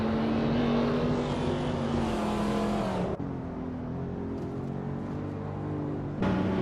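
A 1998 Subaru Impreza 22B STI racing car engine in a racing game drones loudly at high revs, then drops in pitch as it shifts or backs off near the middle, climbing again at the end, with no talking.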